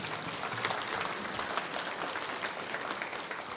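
A large congress audience claps for Mrs. Ward in a continuous, even roar of many hands, sustained at a steady level throughout with no speech over it.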